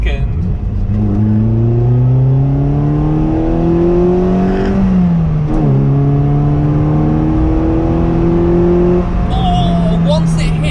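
A car fitted with a full non-resonated Milltek exhaust, 4-1 manifold and sports cat revs hard through the gears, a loud rising engine note climbing to high rpm, dropping on a shift, then climbing again close by.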